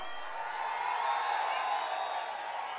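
Large crowd cheering and roaring at an outdoor political rally in Pappiretipatti, Pennagaram constituency, a steady dense wash of voices sustained throughout without a clear speaker on top.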